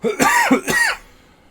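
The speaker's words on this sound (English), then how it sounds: "got the coughing virus" Two harsh coughs in quick succession, close and loud, with a wheezy rasp, then quiet.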